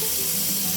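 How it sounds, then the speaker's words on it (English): Water runs steadily into a kitchen sink fitted with a newly installed Badger 5 half-horsepower food waste disposer, a continuous close rushing hiss with no voices. "so now we're running water"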